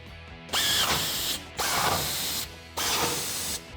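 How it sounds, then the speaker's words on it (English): Three loud bursts of a ratchet or powered socket driver, each lasting under a second, tightening the bolts of a RedRock tubular off-road rear bumper on a 2015-2019 Ford F150 4x4 with a 21mm socket, close up with no talking. "Grab your 21mm socket and tighten these down."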